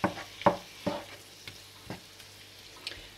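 Potatoes with cod sautéing in a pan, a soft background sizzle punctuated by five or six distinct spatula scrapes and taps, close and moderately quiet.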